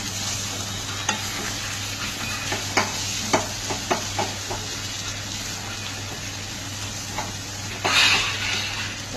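Chicken being stir-fried with turmeric, chili and spices in a pan, a steady soft sizzle under repeated spatula scrapes and taps, with a brief louder hiss near the end.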